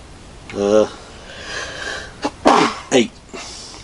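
A sharp, close sneeze bursts out after some brief vocal sounds, followed by a second quick nasal burst.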